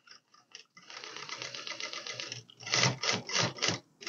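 A sewing machine stitches waistcoat fabric in quick rhythmic bursts of rapid needle clatter, with short pauses and a louder, faster run toward the end.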